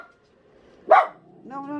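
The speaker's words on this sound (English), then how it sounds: "No, Henry, don't bark." A dog gives one loud, sharp bark close by in a quiet room, followed by a brief whining, voiced sound.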